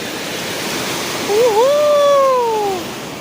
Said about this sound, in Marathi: समुद्राच्या लाटा बघा कशा मस्त येत आहेत